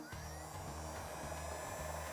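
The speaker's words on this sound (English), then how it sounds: "using either a heat gun or a high quality, high power hair dryer, you will heat" A steady, loud blowing roar of a hair dryer or heat gun running continuously, with a low motor hum underneath, heating a cable sheath.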